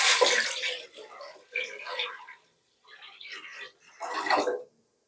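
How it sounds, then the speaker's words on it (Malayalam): Water is poured into a cooking pot for boiling wheat ada, arriving in four separate splashing bursts with short pauses between them. "നമുക്കിനി വെള്ളം ഒഴിച്ചു."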